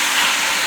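Fajitas sizzling in a pan during a light sauté, a steady, loud broadband hiss that holds evenly throughout the short burst with no talk over it.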